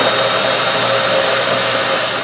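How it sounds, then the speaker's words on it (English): A power drill with its bit running in reverse trims a wooden plug flush during a 1946 Gibson J-45 guitar repair, giving a loud, close, continuous whirring grind that holds steady throughout. "Put that drill bit in reverse with that little dot on there, and now we'll just flush that up with the drill bit"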